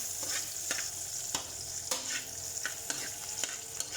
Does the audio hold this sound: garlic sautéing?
yes